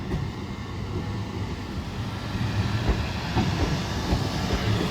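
Two trains, a Class 387 bound for Eastbourne and a Class 377 bound for Brighton, roll into Lewes station with a steady broadband rumble and wheel noise that grows slightly louder as they approach.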